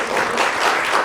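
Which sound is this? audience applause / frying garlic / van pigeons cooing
audience applause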